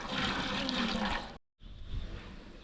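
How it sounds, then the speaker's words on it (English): Water poured over vegetables in a container for preserving without a fridge: a close, full gushing pour that cuts off briefly and then resumes as a lighter, splashing trickle, with no talking. "So now we are adding in water."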